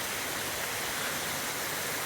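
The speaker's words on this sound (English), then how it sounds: "Another huge stonking waterfall." A huge waterfall, roughly 30 to 40 feet high, roars in a steady, dense broadband rush that stays loud and unbroken throughout, with no voices over it.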